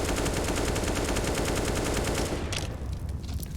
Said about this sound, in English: Full magazine spammed into the smoke